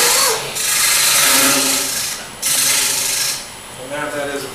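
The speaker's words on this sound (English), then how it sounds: "And that is a pure scrape." Homemade woodturning scraper held against spinning wood on a lathe, making loud rasping, hissing scrapes in two long passes and a shorter one, with a lower motor hum beneath.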